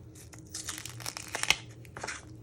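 Dry papery onion skin being peeled off by hand, giving soft crinkling and tearing rustles in short bursts with a couple of sharper crackles, close and fairly quiet, no talking.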